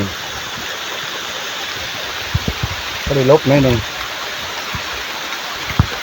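Steady hiss of rain falling in a forest, continuous and fairly close, with brief voices talking over it partway through.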